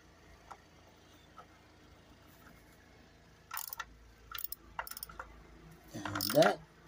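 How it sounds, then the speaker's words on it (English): A socket ratchet clicks in short quick bursts as two bolts are tightened, faint isolated clicks at first, then several close, crisp runs of ratcheting and a louder scrape at the end. "Screwdriver, put on the socket, and just tighten these two"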